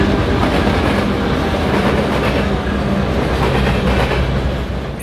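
Santa Fe freight train led by an AB set of F7 diesel locomotives in Black Widow paint, rolling loud and close on the Santa Fe main line near Stockton with steady clickety-clack and heavy rumble, no voices.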